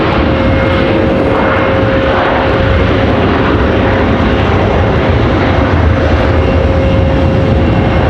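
An American Airlines Boeing 737-8 arriving from Miami roars loudly and continuously as it comes in to land at Raleigh-Durham airport, with a broad steady engine rumble and whine and no talk.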